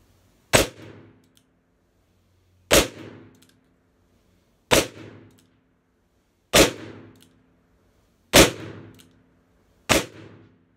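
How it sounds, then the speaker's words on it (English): Six sharp, loud reports from a 2020 Colt Python revolver firing .357 Magnum 158-grain rounds single action, evenly spaced about two seconds apart, each with a short ringing decay and silence between shots. "Tulemo 357 Magnum, 158 grain single action"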